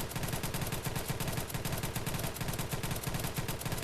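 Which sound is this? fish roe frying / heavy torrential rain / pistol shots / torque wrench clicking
pistol shots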